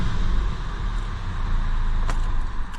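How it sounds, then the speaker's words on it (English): A 2016 Volkswagen Golf R Line engine running after starting, a steady low rumble that holds even throughout, with a brief click partway through and no voices. "And now when you're going to try and start the vehicle,"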